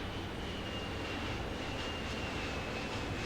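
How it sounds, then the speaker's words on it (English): Airplane engines drone in the video game Poly Bridge 2, a continuous faint rushing roar with a steady high tone running through it, with no voices. "Apologize for the airplane noises."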